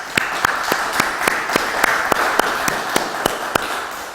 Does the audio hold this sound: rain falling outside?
no